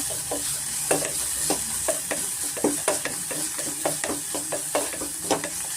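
Green chillies and onion fry in oil with a constant sizzle while a spoon scrapes the pan in quick, repeated strokes, close and fairly prominent.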